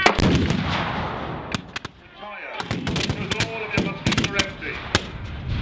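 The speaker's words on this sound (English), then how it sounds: "This is a method by which you can fire all of your muskets at once." A musket salvo at an English Civil War battle reenactment: loud, close volleys of black-powder gunfire with sharp cracks and rolling echoes, several shots following one another over outdoor noise.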